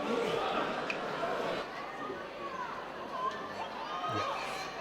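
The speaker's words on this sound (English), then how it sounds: "Big crowd here at Knees of Fury 75." A big crowd fills the venue between rounds at a Knees of Fury 75 Muay Thai event, a steady murmur of chatter with scattered higher shouts, a commentator's voice running over it.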